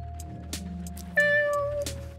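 Cat avatar in the Scrap Mechanic video game lets out a single clear, drawn-out meow over a low steady game hum, with faint clicks before it.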